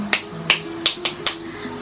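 Five crisp finger snaps in a steady rhythm, close and distinct, set in a flamenco performance with a faint tonal hum beneath.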